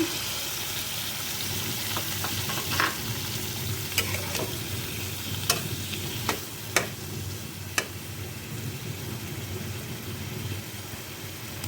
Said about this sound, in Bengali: এখন আমি আগে যে সরিষা পেস্ট লিকুইড করে রেখেছিলাম সেটা দিয়ে দিলাম